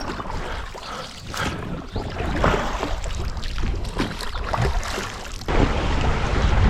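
Oars of a rowboat without a motor splash and churn water against the current on the Horyn river, in an uneven rhythm, close by, over a constant wash of wind and lapping waves.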